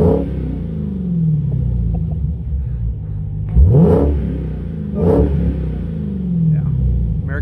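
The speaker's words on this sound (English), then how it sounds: "What do you say we rev her up a little bit, huh?" A 2019 Dodge Challenger SRT Hellcat Widebody idles with a deep rumble, then revs sharply twice, each blip rising and falling back, close and loud.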